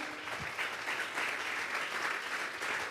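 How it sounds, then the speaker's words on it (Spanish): A church congregation clapping during a Spanish-language sermon, steady rhythmic applause from many people in a hall, moderately quiet and continuous with no speech over it. "dele fuerte esas palmas"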